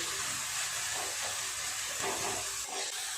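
Red amaranth greens frying with poppy seeds in a pan, a steady broadband sizzle and hiss held close and even throughout, with no talk.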